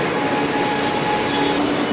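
A metro train near Chennai airport rolls along with its wheels squealing, a loud sustained high metallic whine over a rumbling body noise, continuous throughout.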